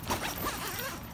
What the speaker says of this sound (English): Inside, where's the zipper?